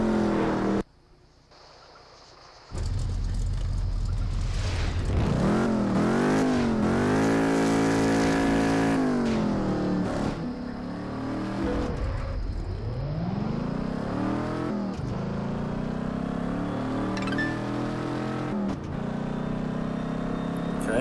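Cars in the Test Drive Unlimited 2 racing game roar along in a steady loud engine drone, with rising and falling revs as gears shift and the car accelerates, sustained for about twenty seconds without speech.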